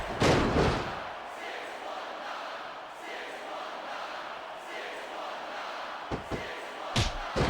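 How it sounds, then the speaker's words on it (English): A wrestling crowd in WWE SmackDown vs. Raw 2006 roars and cheers loudly at the start, then settles into a steady crowd murmur with a few sharp thuds near the end. "I think these superstars are getting some feedback from the crowd, JR."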